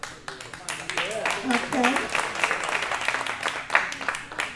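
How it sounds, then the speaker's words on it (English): Audience applause at an evening open mic jam for Diane Vaughn: a broad wash of clapping running under the host's voice, with a few sharper claps standing out near the end. "a round of applause for Diane Vaughn"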